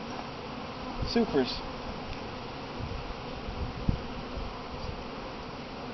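Honey bees buzz steadily around the top honey supers of an open hive, a dense close hum with a few louder passes and a short voice partway through.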